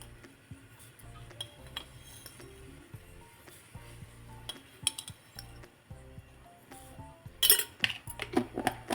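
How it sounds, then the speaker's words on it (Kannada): A spoon clinks and taps against a metal pot as tea powder is added for tulsi tea. The light metallic chinks are irregular and grow louder and sharper toward the end. "ಟೀ ಪುಡಿ ಸೇರಿಸ್ತಾ ಇದ್ದೀನಿ"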